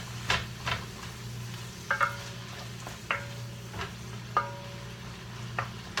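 Minced garlic is stirred into spaghetti sauce in a pan over a steady low sizzle and hum, with a handful of spaced scraping and clinking strokes of the utensil, close and fairly quiet, with no talking.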